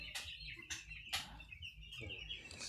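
Broiler chicks in a brooder chirping and clucking in repeated short bursts, fairly close, over a low steady background hum.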